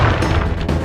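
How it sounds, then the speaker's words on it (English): A firework explosion attack in the Sly Cooper video game goes off as a loud, dense, booming blast with crackling energy that fills the moment without a break. "To honor your Cooper ancestry, I will send you to your doom with the beauty of my new firework technique, Flame Foo."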